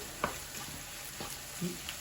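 Onions fry in a pan on a home stove with a quiet, steady sizzle. A few soft clicks and scrapes from stirring stand out briefly.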